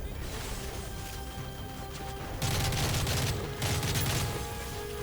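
Gunfire rattles in the video game Call of Duty Modern Warfare 3 as dense, loud bursts of automatic shots over a constant roar of battle noise, with two heavier volleys standing out.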